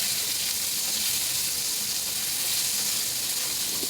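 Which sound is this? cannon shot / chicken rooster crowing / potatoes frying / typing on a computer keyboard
potatoes frying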